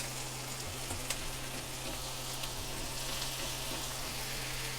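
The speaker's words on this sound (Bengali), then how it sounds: "পেঁয়াজ মরিচ 2-3 মিনিট ভেজে নেওয়ার পর এখানে দিয়ে দিব বাঁধাকপি।" Chopped onion, green chili and garlic, then cabbage, fry in a pan with a steady, dense sizzle, heard close, continuous and without talk, over a faint low hum.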